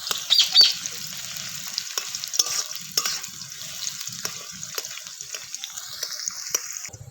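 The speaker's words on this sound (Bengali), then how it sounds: "এবার এর মধ্যে এই কুচি করে রাখা পেঁয়াজগুলো দিয়ে দিচ্ছি।" Chopped onions fry in hot mustard oil for a chicken and potato curry, a steady crackling sizzle running throughout with scattered spatter pops and light utensil clicks, close and moderately loud, no voices.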